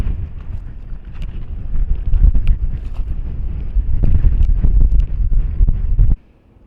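Gusty wind rumbles against the microphone, building in strength in bursts before cutting off abruptly at the end.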